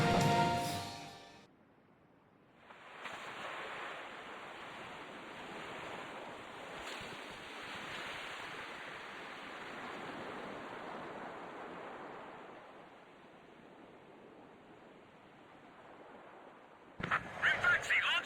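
The giant submarine Hrimfaxi surfacing in Ace Combat 5, heard as a steady, loud rush of churning water and surf-like roar sustained for many seconds, with brief sharper noises at the start and end.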